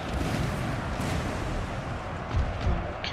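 Artillery batteries in a Napoleonic-era strategy battle game boom in low, rumbling volleys over a constant dense battlefield roar, with a couple of heavier thuds standing out near the end.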